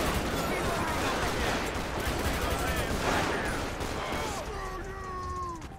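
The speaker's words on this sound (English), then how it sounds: "This guy's still shooting." Sustained gunfire from a shootout in GTA 5 during a police gang-unit patrol, a dense continuous crackle of shots that stays loud throughout, with faint tonal sirens or whines rising near the end.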